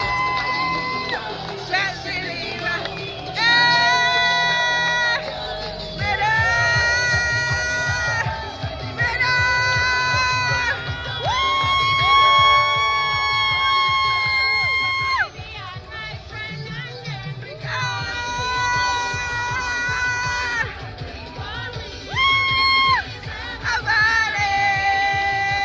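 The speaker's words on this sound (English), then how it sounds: "That's literally me screaming and everything." Wedding guests scream, whoop and cheer during an entrance dance at a resort in Cancun, a loud excited crowd over thumping dance music that keeps going throughout.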